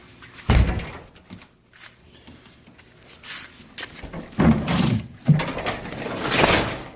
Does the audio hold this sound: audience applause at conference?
no